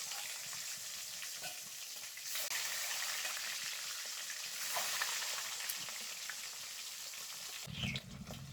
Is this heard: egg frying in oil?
yes